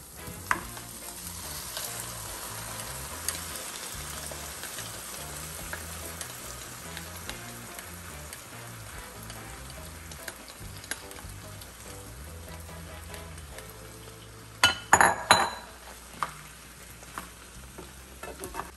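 Jamaican-style curry chicken sizzling steadily in a pot with seasoning, a continuous close frying hiss broken by a few loud clanks and scrapes of stirring near the end, with no voices.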